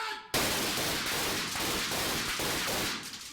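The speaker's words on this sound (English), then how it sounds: "Look at Kane Hodder standing in front of this hail of gunfire" Blank rounds fired in a rapid, dense volley during a Friday the 13th film stunt, a continuous roar of overlapping shots lasting several seconds after a brief quieter lead-in, loud and close.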